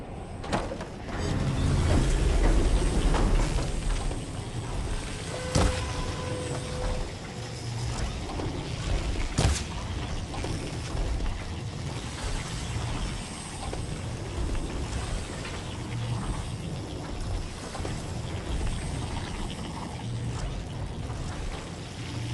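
Rotating gear mechanisms on stone pillars in Horizon Forbidden West grind and clank, with ratcheting clicks and sharp locking knocks over a steady mechanical rumble lasting about twenty seconds, no voices.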